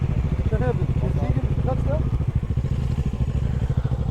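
Bajaj Dominar 250 motorcycle engine running, a pulsing mid-pitched throb heard close and loud while someone talks over it, with wind noise in the background.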